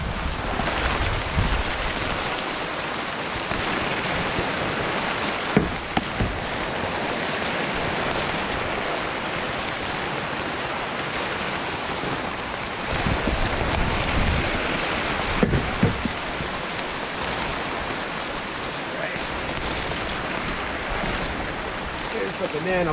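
An unexpected outdoor rainstorm with strong wind: continuous loud rushing of rain and gusts with wind buffeting against the microphone, lasting the whole stretch.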